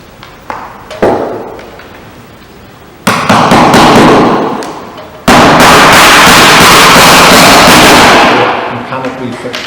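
Sharp hammer blows drive 20mm clout nails through felt into new decking to fix a GRP roof product, several loud strikes in sequence, with a voice talking over the noise.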